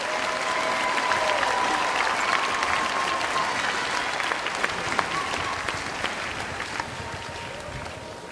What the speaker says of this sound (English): Please join me in applauding the graduates from the College of Health Sciences